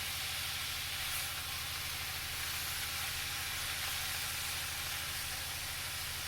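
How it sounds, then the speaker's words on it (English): Sausage and onions frying in a skillet give off a constant, even sizzle and hiss, steady and moderately close with no break. "I just want to make sure that everything kind of gets fried before I add the bouillon."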